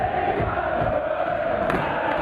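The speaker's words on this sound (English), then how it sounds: "the crowd encouraging the boys" Crowd at a Mosconi Cup 2012 pool match cheering and murmuring encouragement, a steady broad wash of voices throughout with a brief swell near the end.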